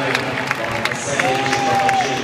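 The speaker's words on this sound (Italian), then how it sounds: "applauso per questa finale" A crowd at an Italian dance championship final claps and murmurs steadily, with scattered cheers and a faint sustained tone running through.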